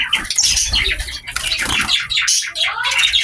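Dense, loud chorus of chirps and squawks from star finches and shaft-tail finches, including an albino shaft-tail hen, calling close by in an aviary, overlapping continuously with no pauses.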